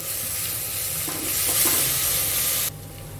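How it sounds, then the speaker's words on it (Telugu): Ginger-garlic paste sizzles with onions in a hot pan, a continuous loud frying hiss with scraping stir strokes that drops off abruptly near the end. "ఇది పచ్చివాసన పోయే వరకు ఫ్రై చేసుకోవాలి"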